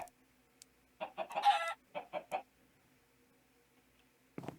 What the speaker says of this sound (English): Why are these chicken dying?